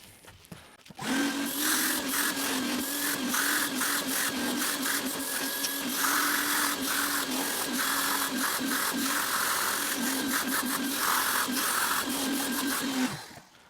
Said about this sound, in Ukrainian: І зараз промиваємо то все миючим пилососом.